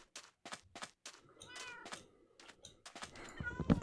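Cats in the video game Minecraft give a short meow near the end, faint and brief among sharp clicks and game sounds.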